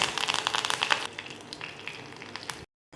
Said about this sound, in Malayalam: കടുക് താളിക്കാം ഒരു സ്പൂൺ വെളിച്ചെണ്ണ ഒഴിച്ചു കുറച്ച് കറിവേപ്പില